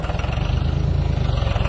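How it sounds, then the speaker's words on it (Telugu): A tractor engine runs nearby on a village house site, a loud, steady low throbbing with a fast regular pulse, with no speech over it. "పక్కన ట్రాక్టర్ నాయిస్ రావచ్చు"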